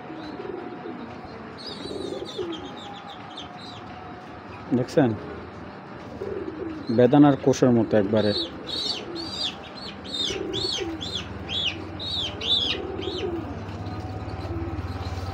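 A checker racing pigeon with clipped wing feathers coos softly while other birds chirp in quick high bursts, and someone talks over the middle stretch.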